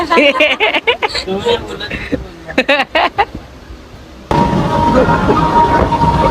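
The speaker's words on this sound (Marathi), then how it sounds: "आता ट्रेन पण आलेली आहे ट्रेन मध्ये बसू" A train pulls into a station on the Lonavla route. Its steady, loud rumble takes over after a stretch of people talking and laughing on the platform.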